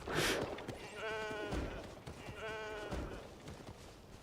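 Goat creatures in Genshin Impact give two short, quavering bleats about a second apart, soft and close, after a brief voice at the start.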